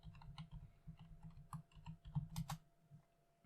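Typing on a computer keyboard, a run of quick, light key clicks in an irregular rhythm with a few sharper taps, close and quiet, no voices.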